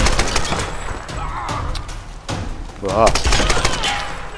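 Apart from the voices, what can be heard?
gunfire from an enemy shooter in the video game Tomb Raider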